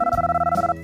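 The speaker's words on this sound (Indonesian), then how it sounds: "Suatu malam, Emily mendapat telepon." A telephone rings as a sound effect in a narrated children's story: a single short electronic ring, bright and buzzing, lasting under a second with no voices.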